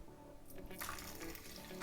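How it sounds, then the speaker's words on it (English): Water pours steadily into a container for homemade apple cider vinegar, a continuous close splashing flow that lasts throughout. "So I'm just pouring the water."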